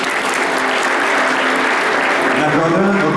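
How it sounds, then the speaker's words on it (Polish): Loud, dense applause from the audience at an awards gala for the bathroom industry, continuous clapping that fills the moment, with a voice faintly audible underneath toward the end. "Gorące brawa."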